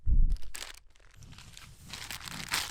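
A crisp packet crinkles and crunches close by, brief rustling bursts at an outdoor stop by a heart-shaped lake in the Wicklow Mountains, with light wind in the background.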